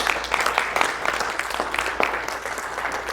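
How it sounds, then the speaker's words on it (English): A workshop audience breaks into applause for a group of presenters, steady broadband clapping with scattered sharper claps throughout, fairly close and without talk. "Let's give these guys a big round of applause."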